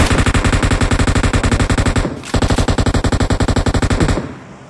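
Sustained automatic gunfire sprays in a PUBG Mobile match, loud rapid regular shots in a long burst, a brief break, then another long burst that cuts off near the end.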